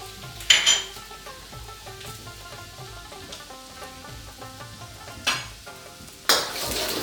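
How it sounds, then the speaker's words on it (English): Four cloves of chopped garlic sauté in oil over a high flame, sputtering in a few sharp sizzling bursts amid soft stirring clinks, with a steady tonal background underneath. "Saute the garlic."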